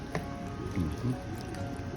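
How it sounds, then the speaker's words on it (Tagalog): Sauce and a little water poured into a pot of pork paksiw, soft liquid drips and squishy splashes, faint and close, with a few small wet sounds over a quiet kitchen background. "Next, yung sarsa at konting tubig."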